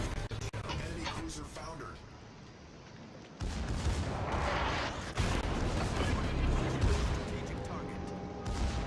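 Naval gunfire in the World of Warships video game, with heavy booming salvos and rumbling impacts building over a dense battle soundscape, while a voice talks over it.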